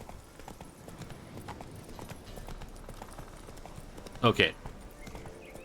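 Roach the horse's hooves clip-clop at a steady walking rhythm in The Witcher 3, continuous and moderately close, with a brief spoken word cutting in near the end.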